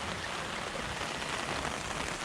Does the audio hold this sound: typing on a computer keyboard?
no